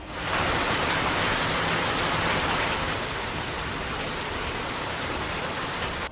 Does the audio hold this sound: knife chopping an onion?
no